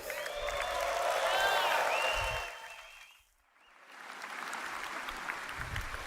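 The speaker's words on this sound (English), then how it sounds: "Another round of applause for Andre" A crowd at the CitizenCon 2953 Star Citizen convention claps and cheers, the applause swelling, fading out briefly, then returning a little quieter, with whistles in the mix.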